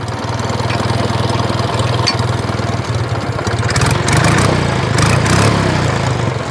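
A log splitter's small engine running after repair, a loud, close, steady idle with a knocking pulse that rises and roughens briefly partway through before settling.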